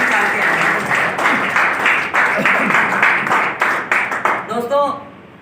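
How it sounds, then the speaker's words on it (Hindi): Seminar audience clapping loudly and steadily for several seconds, dense overlapping claps with voices mixed in, tapering off near the end as a voice begins to speak. "एक बार जोरदार तालियां सब अपने अपने लिए मारते हैं"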